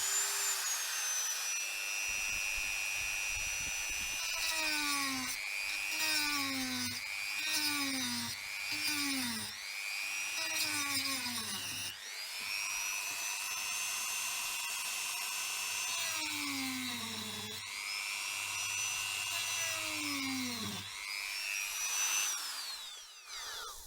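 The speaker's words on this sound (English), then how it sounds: "just to show you how quickly the Dremel eats through this material" A Dremel rotary tool cuts through interior trim material in a Nissan Patrol Y61, its high whine rising and dipping in repeated short bursts as the bit bites and eases off, loud and close throughout.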